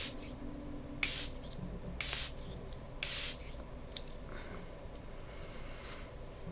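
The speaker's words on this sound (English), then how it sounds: "This is what the spray looks like." A makeup setting spray gives three quick, separate hissing spritzes about a second apart, each short and close, in an otherwise quiet room.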